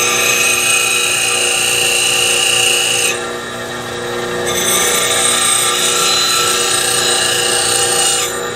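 A woodturning tool is ground on a sharpening wheel, a loud, continuous high-pitched rasp that breaks off briefly in the middle and resumes, with no speech.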